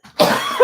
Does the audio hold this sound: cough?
yes